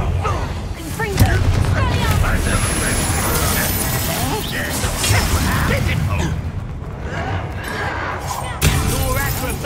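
Fiery Confringo spell blasts in Hogwarts Legacy combat: loud, busy whooshes, crackling bursts and booms layered over one another, with voices calling out during the fight.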